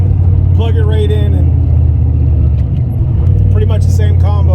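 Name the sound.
junkyard GT40 turbo car engine idling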